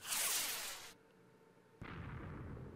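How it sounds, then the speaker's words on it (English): Rocket launcher firing in a Minecraft-style video game gun mod: a loud broadband whoosh-blast, a short lull, then a deep rumbling explosion that carries on at a steady roar, with no talk. "The first one will be just a normal rocket launcher"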